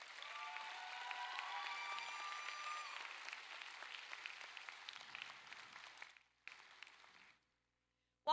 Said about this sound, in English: would you join me in giving our faculty and staff a round of applause?